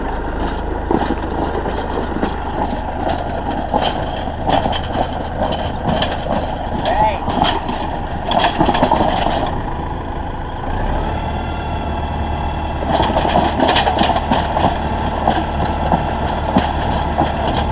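A thick auger drills holes through rocky ground for concrete piers, its engine churning steadily and loudly throughout with rougher bursts of grinding, while people talk over it at times.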